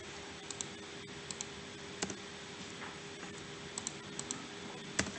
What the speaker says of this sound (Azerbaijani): Enteri vururam.